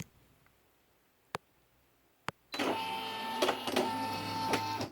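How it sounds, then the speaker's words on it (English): A Brother PE800/PE900 embroidery machine shifting its hoop gives a steady mechanical whir and buzz. It starts after a quiet stretch marked by two sharp clicks, then runs loud and close with small pulses until the end. "now the hoop's going to move, and you press this"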